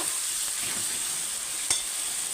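Kashmiri chili powder and ground coriander being stirred into oil in a pan for a turnip and chicken curry, a steady close sizzle with soft scraping and one brief knock, no voices.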